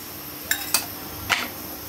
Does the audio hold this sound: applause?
no